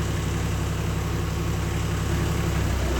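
A Toyota 80 Series Landcruiser engine runs steadily in four-wheel drive as the clutch is released, a loud, even low drone with no break in it.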